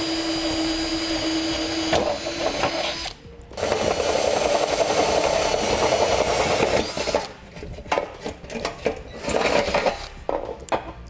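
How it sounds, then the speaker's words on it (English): Step drill bit boring out a hole in the steel frame of a 2017 Subaru during a trailer hitch install, giving a loud, steady grinding whir that pauses briefly near three seconds and ends in choppy bursts. "we can use a step bit. I'm gonna use a step bit."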